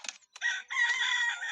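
A rooster crowing in the animated film Ferdinand, a short, loud, close cock-a-doodle-doo with a brief cluck before the long, bright, ringing crow.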